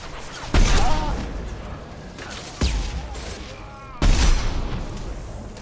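Gunfire in a Mass Effect 2 game session: three heavy booming shots spaced a couple of seconds apart, each with a ringing decay, close and loud over a low steady background.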